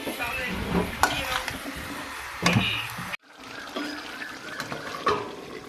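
Chicken is stirred through masala in a frying pan, giving soft wet sizzling and spatula scrapes close by, with one brief dropout midway before the stirring and sizzle resume.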